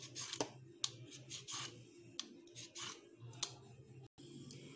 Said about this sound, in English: First, peel the carrot.